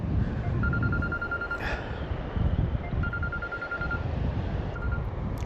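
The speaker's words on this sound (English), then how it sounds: "Oh, my phone's ringing." A mobile phone on a windy beach while sea fishing, a repeating electronic ring in short bursts over steady wind and surf noise, with no talk.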